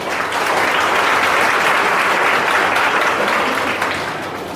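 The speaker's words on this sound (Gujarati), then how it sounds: "આપણે સૌ તેમનું તાળીઓથી સ્વાગત કરીએ" A room full of people claps to welcome a visiting family at an institution for the blind, a dense, even burst of applause that holds steady then tapers slightly at the end.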